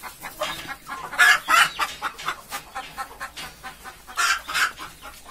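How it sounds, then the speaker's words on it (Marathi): A fighter rooster clucking close by outdoors, a run of short repeated clucks in uneven bursts with a couple of louder, stronger calls. "हा फायटर कोंबडा आहे."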